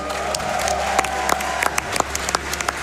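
Live crowd applauding at the SGDQ 2022 speedrun marathon finale after an Elden Ring run, a dense, close wash of clapping with sharp individual claps popping out.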